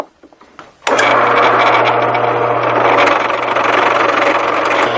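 After a few faint knocks, a power drill with a 3/8 inch bit starts abruptly, boring into a metal tube, and runs loud and close with a steady motor whine and a grinding, vibrating texture.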